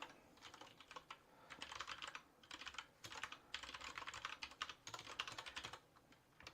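Rapid typing on a computer keyboard during a coding session, steady bursts of clicking keystrokes with short pauses, fairly close and moderately quiet, with no talking.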